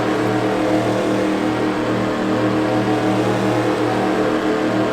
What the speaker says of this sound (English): It's time for Kevin to put down the loud pedal and make that Mustang purr